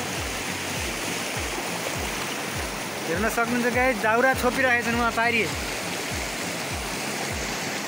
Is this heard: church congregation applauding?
no